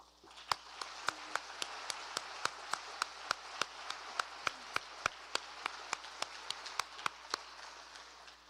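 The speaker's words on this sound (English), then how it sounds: "I think that deserves another round of applause." Applause at a chamber of commerce awards dinner: a soft bed of crowd clapping under a single nearby pair of hands clapping sharply and steadily, about three claps a second, fairly quiet overall.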